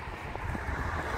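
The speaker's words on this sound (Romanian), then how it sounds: "Frig, bate vântul, cam câmp aici" Wind blowing steadily across an open field in cold weather, a continuous broadband rush with low rumbling buffets against the microphone, moderately loud and alone with no talk.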